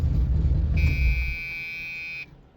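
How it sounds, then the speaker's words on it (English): An old car's key-in-ignition door buzzer drones a steady electronic tone for about a second and a half over low engine rumble, then cuts off abruptly. "gotta love that old school door buzzer, key buzzer"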